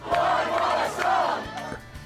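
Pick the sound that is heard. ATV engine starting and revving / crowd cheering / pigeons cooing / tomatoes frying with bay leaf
crowd cheering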